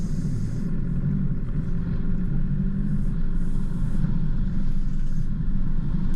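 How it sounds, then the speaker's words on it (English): A 4WD drives through a puddle on a dirt track, giving a steady, loud low engine rumble with a broad wash of water and tyre noise throughout and no talk. "Who doesn't like driving their 4B through the odd puddle?"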